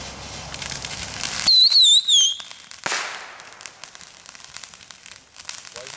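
A Blockbuster firework in a backyard July 4th display goes off with a loud whistling shriek and a sharp burst. Crackling and sputtering follow, and people can be heard talking afterward.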